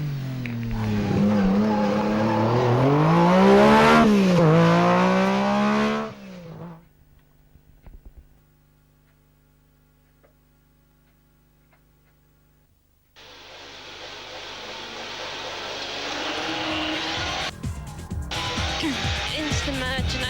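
A rally car at an Avon Park tarmac event revs loud and close, its engine pitch rising and falling with squealing tyres. It fades to near silence, then another loud pass returns.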